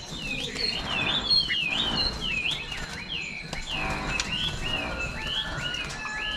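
Oriental magpie-robins and white-rumped shamas sing loudly after rain, with overlapping whistles, trills and chirps in a dense, lively chorus close by.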